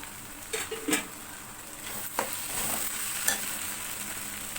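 Ground spices, cumin, coriander and dried red chilli powder, go into a hot frying pan for butter chicken and are stirred, giving a steady sizzle broken by several scraping, clinking strokes of a spoon against the pan.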